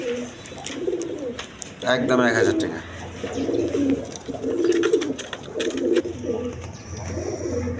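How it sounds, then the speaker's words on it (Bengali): A pair of large red Maltese pigeons coo repeatedly nearby in a pigeon market, their soft throaty calls recurring throughout while someone talks over them. "এইখানে এক পেয়ার মাল্টেস কবুতর আছে, দেখেন একদম বিগ সাইজে দেখার মতো কবুতর, রেড কালার মাল্টেস কবুতর"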